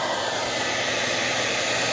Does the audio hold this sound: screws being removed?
no